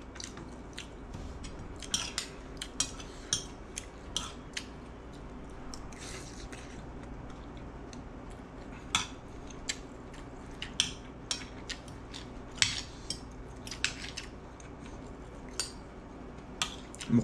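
Cutlery clinks and scrapes against a plate at irregular intervals during a mukbang meal of bistek tagalog, with soft chewing under a steady low room hum; sharp ticks stand out close and fairly quiet, no talking.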